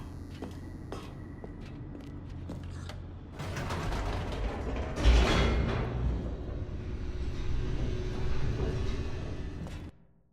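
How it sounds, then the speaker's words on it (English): An elevator descends in The Stanley Parable with a low mechanical rumble and creaking gears. The noise swells midway with a heavier clunk and grinding, runs on steadily, then cuts off abruptly at the end. "The elevator raced downward, plummeting towards an unknown fate."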